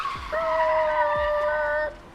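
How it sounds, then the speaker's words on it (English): A car's tires squeal under hard braking in traffic, a loud, sustained tonal screech lasting about a second and a half over a background rumble, ending abruptly. "a car slams on brakes"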